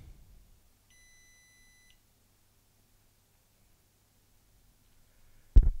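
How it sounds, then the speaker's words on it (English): A 12V 280Ah LiFePO4 battery for RV and solar storage gives a single short, faint electronic beep as it is switched on, in an otherwise quiet room, followed by a louder sharp click or clunk at the end. "It beeped"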